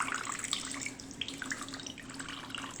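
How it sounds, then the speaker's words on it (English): Water is squeezed out of grated cauliflower and runs and trickles steadily into a sink or bowl, a continuous close splashing stream with no voices. "What we want to do next is squeeze out all the water."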